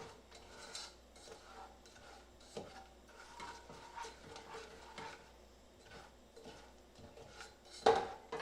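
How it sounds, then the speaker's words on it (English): Melting sugar stirred in a pan on the stove for flan, a quiet ongoing scrape of a utensil against the pan with small clinks and one sharper knock near the end, with no talking. "I like to just keep stirring so that it doesn't get too dark"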